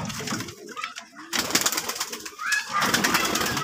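Pigeons, including Benaras pigeons, cooing in a loft, with several close, soft throaty coos repeating over busy background chatter and a faint flutter.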